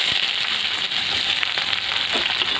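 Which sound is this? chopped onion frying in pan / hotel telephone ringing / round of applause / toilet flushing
chopped onion frying in pan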